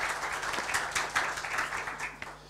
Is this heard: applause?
yes